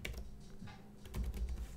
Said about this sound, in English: why is my keyboard repeating